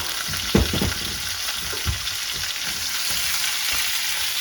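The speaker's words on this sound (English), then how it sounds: "the object here is going to be to brown off the pork for later to put directly into the pot here" Pork browns in a pot for pozole, a steady close sizzle and frying hiss with a few louder clanks and stirring knocks from utensils against the pot.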